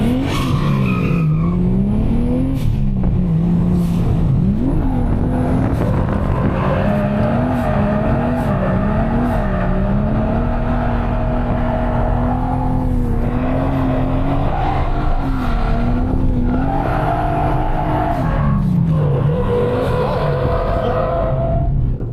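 Toyota Chaser on a race track, accelerating hard with rising engine pitch, repeated gear shifts and brief tire squeal, heard steadily from nearby.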